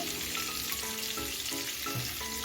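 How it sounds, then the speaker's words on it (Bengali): Cinnamon sizzles as it tempers in hot oil in a pan for paneer butter masala, giving a loud, continuous fry with a crackling hiss and a few small pops, with no voices. "এবার দারচিনি ফোড়নটা একটু ভেজে নিচ্ছি এক মিনিটের মতো"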